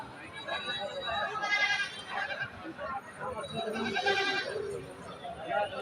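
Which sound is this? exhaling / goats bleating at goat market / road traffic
goats bleating at goat market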